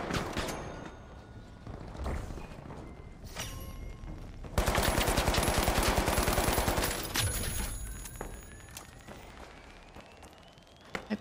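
Turret gunfire in a first-person video game: bursts of rapid automatic shots, building to a dense, loud, rattling volley midway before easing off into scattered fire.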